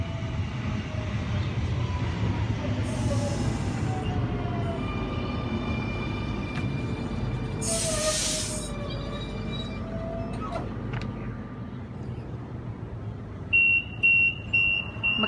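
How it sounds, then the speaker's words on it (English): Sydney MSET electric train pulling in at Casula platform 2 on a MacArthur service: a steady rumble and rising motor whine with rail squeal, a brief beeping tone near the end, no voices. "We have an MSET arriving onto platform 2, MacArthur service."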